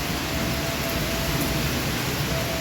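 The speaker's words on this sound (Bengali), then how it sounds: "তো দেখো ঝমঝম করে বৃষ্টি পড়ছে" Heavy rain driven by strong gusty wind pours down steadily and loudly, a dense unbroken hiss that fills the whole scene without pause.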